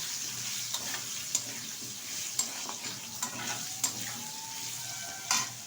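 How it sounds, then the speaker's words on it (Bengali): Potato and gati kochu taro pieces stirred in hot oil: a steady close sizzle with regular spoon scrapes and knocks against the pan. "ভালোভাবে এবার আমি একটু নেড়ে চেড়ে নেবো তেলের সাথে"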